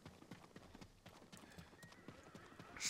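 Hooves clip-clop in a quick galloping rhythm as a horse runs in the video game Ghost of Tsushima, fairly faint, with a brief whinny near the end.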